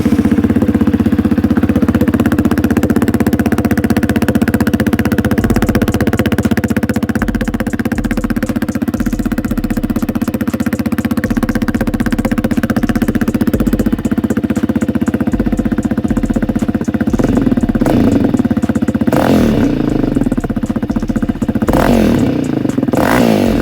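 A 2020 Yamaha Raptor 700R ATV engine runs loud and close with the spark arrestor removed, holding a steady rough idle with clattering, then breaking into several sharp revs near the end.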